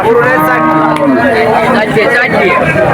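Cattle lowing and mooing loudly at a crowded cattle market in Jessore, Bangladesh, with overlapping calls and steady crowd chatter and voices around them.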